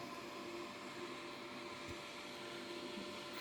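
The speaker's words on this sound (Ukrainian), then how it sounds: "Водичку ми вже залили, інкубатор працює, ось так от він виглядає" A quail egg incubator runs with a steady, even mechanical hum, like a small fan or motor, continuous and unchanging.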